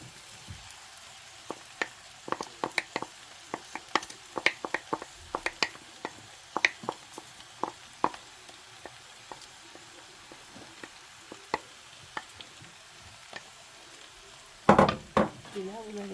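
Beef and noodles tipped into a hot pan and stir-fried, giving a steady close sizzle with many sharp clinks and scrapes of utensil on pan, and a louder clatter near the end.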